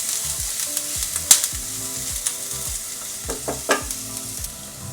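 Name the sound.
garlic and ginger sizzling in hot oil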